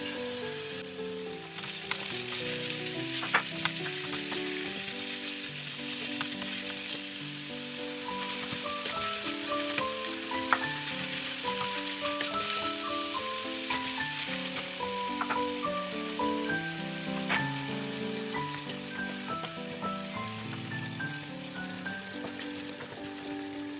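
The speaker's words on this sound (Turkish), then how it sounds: "O közlenirken ben de içini kavuruyorum, iç malzemesini." Eggplant filling fries in a pan with oil: a soft, steady sizzle with light crackles, partly masked by melodic background music throughout.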